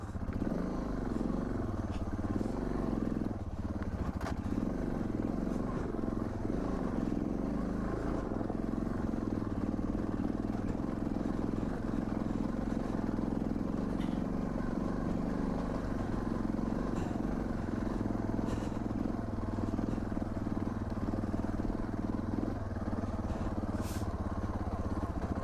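A Suzuki DR650 dual-sport motorcycle ridden through desert terrain, its single-cylinder engine a steady, continuous mid-range drone with clattering from the rough ground, close and loud throughout without pause.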